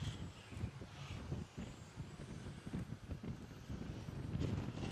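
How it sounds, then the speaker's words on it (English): Wind blowing at an outdoor racetrack, a steady low rumble buffeting the microphone with gusty swells and no voices. "it's pretty windy up here, so I'm trying to block out some of the wind"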